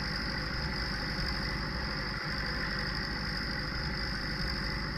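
A tractor engine idles and runs steadily in Farming Simulator 19, a continuous mid-low drone with a constant tone, close and alone with no talk.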